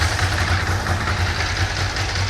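A Ducati Paul Smart 1000 LE motorcycle with a dry clutch idles nearby, a loud, steady low-pitched engine throb with a rattly mechanical texture and no talk over it.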